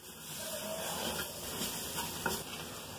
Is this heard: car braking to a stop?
no